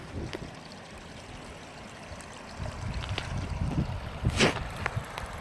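A river running along the Cape Wrath Trail, a low, steady rush of flowing water close by, with a few brief splashes and knocks over it.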